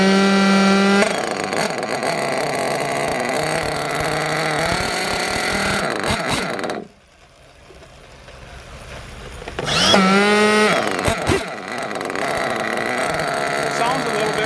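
An RW Mods nitro engine in an RC car running rich, a loud, steady high-pitched buzzing whine that cuts out abruptly for a few seconds before firing back up, revving, and droning on again.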